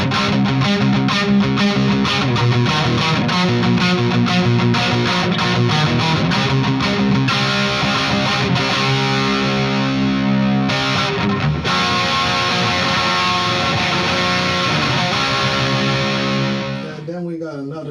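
A LeeroyTubes Hardrock100 distortion pedal pushes an electric guitar into a thick hard rock and light metal tone, with dense chugging riffs and sustained chords playing loudly and continuously.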